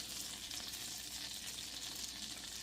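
Whole garlic cloves fry in a pan of sauce with a constant soft sizzle, a faint, even hiss with no talk over it.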